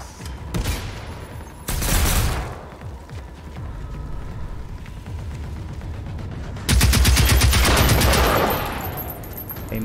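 Bursts of gunfire in the video game Generation Zero: a short rapid volley, a pause filled with quieter rattling, then a longer, louder sustained burst near the end.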